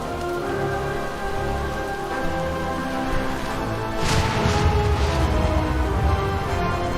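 Steady rain falls in a video game scene, a dense close patter on surfaces that carries on throughout and swells a little louder partway through, with no voices.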